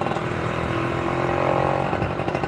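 Yamaha F1ZR two-stroke motorcycle with an aftermarket exhaust, revving steadily nearby in a continuous buzzing drone with slight rises in pitch, loud and without talk.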